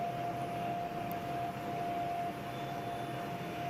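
A Lancair IV-P turbine airplane climbing after takeoff at reduced power, a steady, even engine roar with a constant high whine heard from inside the cockpit.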